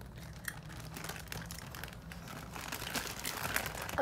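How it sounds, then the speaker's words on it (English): Slime being packed into a plastic bag, with soft irregular crinkling and rustling of the plastic, fairly quiet and close, steady throughout. "In a plastic bag."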